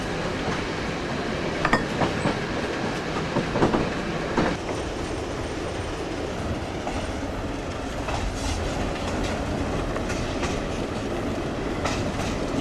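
A train runs along the rails through a village in a 2004 Albanian film, its steady rumble and rhythmic clickety-clack of wheels rolling on at moderate distance, with a few brief squeals and clanks, no voices.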